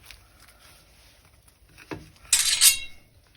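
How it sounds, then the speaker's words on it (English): A knife slicing a quesadilla in half on a kitchen surface, heard as a brief low thud of the blade followed by a short, bright crisp scraping cut, fairly close and alone. "Then we're gonna get the knife. We're just gonna cut this bad boy in half."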